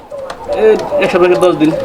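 Breeding pigeons for sale coo in low, throaty, rolling calls that repeat through the clip, with people talking nearby.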